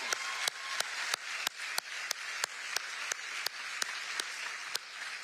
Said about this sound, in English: Give them a round of applause for being with us.